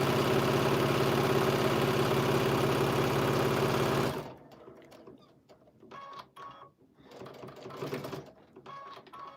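Sewing machine stitching fabric for a bag, a machine with a fault underneath that keeps the fabric from gliding: a loud, fast, steady mechanical whir for about four seconds, then it stops, leaving faint handling noises and small clicks.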